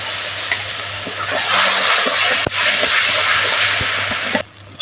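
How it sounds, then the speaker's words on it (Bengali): Ground ginger and green chilli paste with a little turmeric fries in mustard oil: a loud, steady, close sizzle dotted with spatula taps and clicks, dropping away abruptly just before the end. "আদা আর কাঁচা লঙ্কাটা একটু ভেজে নিতে হবে প্রথমে"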